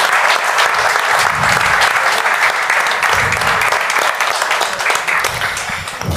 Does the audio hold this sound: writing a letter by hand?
no